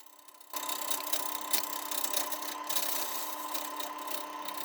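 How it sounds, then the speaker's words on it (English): A wood lathe spins up after a brief quiet start, then runs with a steady motor hum while a tool trues and shapes a wooden bowl, making scraping, chattering cuts up close with no talk. "Once on the lathe, the first thing is some initial truing up, then I go on to start forming the shape of the tyre."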